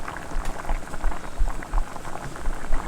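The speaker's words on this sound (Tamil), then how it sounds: "நல்லா கொதிக்குது." Chicken liver gravy with homemade masala and added water bubbling at a steady boil in a pot, a dense close crackle of popping bubbles with soft low thumps throughout.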